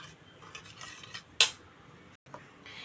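Ground spice paste worked with salt and turmeric in a bowl, scattered soft scraping and a single sharp metallic clink from a spoon, close and quiet with no voices.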